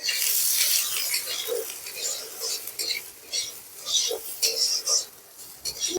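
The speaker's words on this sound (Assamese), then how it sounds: "এতিয়া মই দালিখিনি ভাজি ল'ম" Washed lentils being fried and stirred in a pan for an Assamese dal dish, making dry, uneven scraping and rustling strokes that rise and fall, fairly close and moderately loud throughout.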